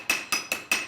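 Four sharp, ringing hammer strikes on metal at a blacksmith's forge in Myanmar, two smiths striking in turn in quick, even rhythm, each with a bright metallic ring that hangs briefly.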